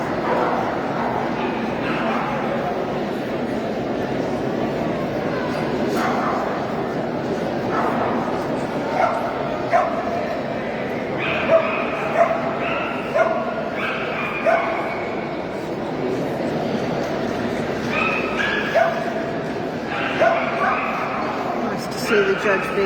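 A small Cesky Terrier at a national terrier show gives repeated short yips, whimpers and light barks, scattered at moderate distance, while a commentator talks steadily over the hall's background murmur.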